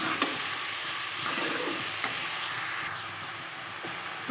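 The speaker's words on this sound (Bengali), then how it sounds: "শাকটা এবার সব রকম সবজির সঙ্গে নেড়ে চেড়ে মিশিয়ে নিচ্ছি" Leafy beetroot greens being stirred and tossed with mixed vegetables in a hot pan, a steady close sizzle with soft scraping strokes and faint clicks of the spatula, no voices.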